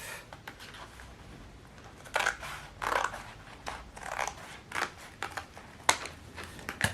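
Scissors snipping through plastic milk-bottle material and leather-look card, a series of quiet, irregular crisp cuts close by, without talk.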